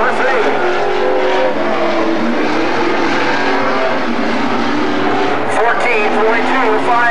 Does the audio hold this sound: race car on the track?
yes